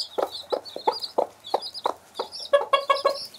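Several chickens cluck in short repeated bursts close by, growing busier and more overlapping toward the end.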